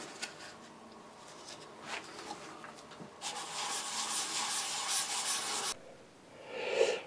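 Sandpaper worked by hand across the back of a left-handed SG-style guitar body, flattening the finish to 600 grit: soft, steady rubbing strokes that grow louder and denser midway, then stop abruptly.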